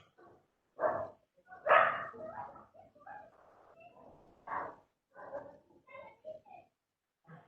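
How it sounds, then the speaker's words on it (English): A dog barks in a series of irregular, moderately loud yaps and barks, some close together and others spaced out, with short whimpering tones between them. "Is your dog barking or something?"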